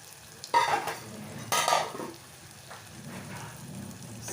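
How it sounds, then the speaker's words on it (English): Chopped onions for a tomato sambol are stirred as they fry in a pan, giving two scraping stirring passes over a soft steady sizzle, close and fairly quiet, with no voices. "Stir that well, and these onions have to fry really well"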